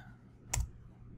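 A single short mouse click on a move relative button in a web UI, quiet and close against a low background hum, with nothing else around it.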